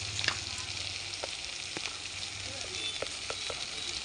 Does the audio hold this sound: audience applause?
no